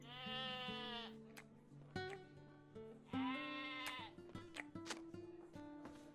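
Repeated sheep bleats, wavering and nasal, sounding over a steady Lord of the Rings Online soundtrack in a tavern, with background tones and clicks.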